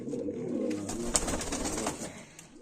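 Baku fighting pigeons coo nearby in soft, repeated throaty calls with faint rustling in the background.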